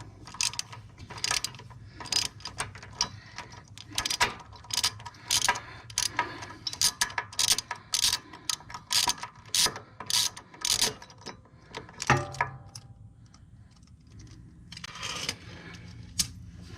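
A ratchet wrench works nuts loose on the exhaust manifold of a Dixie Chopper mower, giving rapid bursts of sharp metallic clicks in an uneven rhythm with short pauses, close and clear, then a quieter stretch before a final burst.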